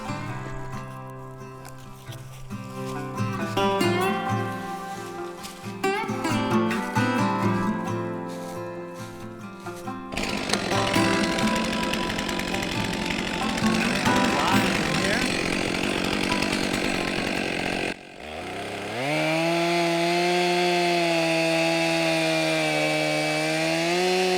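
A chainsaw bites into a shagbark hickory to cut the face notch, engine snarling and shifting pitch as it loads and revs, loud and close, with a short break before it idles up again.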